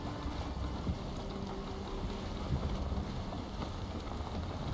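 Steady wind rushing while sailing a boat in Valheim, a constant low broadband roar with a faint underlying hum, moderately quiet and heard alone without any talk.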